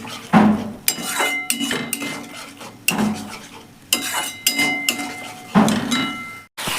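A utensil scrapes and clanks in a pan as eggplant is stirred and fried with sour yogurt, loud close strokes in an irregular rhythm with soft sizzling between them.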